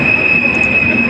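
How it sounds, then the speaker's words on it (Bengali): A passenger train in Bangladesh slows into a station, a loud steady rumble of wheels on rails with a high sustained squeal of braking wheels throughout. "ট্রেন ধীরে ধীরে থেমে যাচ্ছে,"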